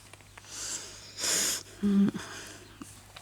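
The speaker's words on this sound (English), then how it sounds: "Sorry about that, it's sort of breathing" A single wheezy breath, close and fairly loud, stands out in a quiet room, with a short lower-pitched snort-like sound following soon after.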